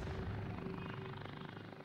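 A rescue helicopter searches low over the surf at Muriwai beach, its rotor giving a steady, dense broadband whir with a low throb that holds throughout, fairly close and with no talk.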